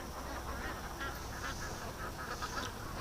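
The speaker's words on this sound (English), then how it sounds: "the ducks are doing a terrible job of telling me what" Ducks quack at a lake in a faint, steady chorus of overlapping calls behind continuous background hiss, with no talk.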